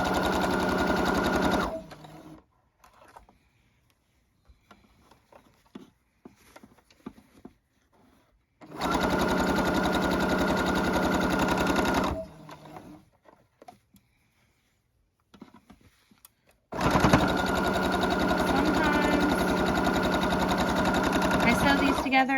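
A sewing machine stitching quilt block pieces runs in three long steady bursts, each several seconds, separated by quiet stretches with small handling clicks and rustles.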